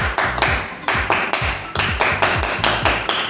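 Pramuka scout clap pattern performed by a group: about a dozen sharp, close, evenly rhythmic claps in quick succession, loud and crisp with no talking.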